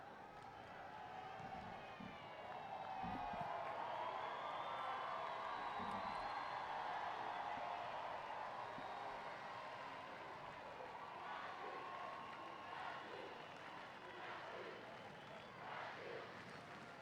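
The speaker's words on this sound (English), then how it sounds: "And now the crowd, if any were starting to worry, are really getting into it." Spectators at a Paralympic 7-a-side football match in Rio keep up a distant, sustained swell of cheering and crowd noise that rises and holds, faint and broad across the stadium.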